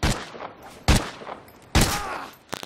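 Sniper rifle shots in Call of Duty Ghosts, three loud sharp cracks about a second apart, each ringing out briefly over quieter game noise, followed by a faint flurry of smaller clicks at the end.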